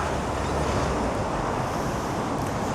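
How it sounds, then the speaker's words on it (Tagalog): Strong, steady wind roars with broadband rushing noise across the whole clip, constant and loud with no breaks, gusts buffeting the microphone outdoors on a Kyoto street. "Mukhang babagyo. Ang lakas ng hangin."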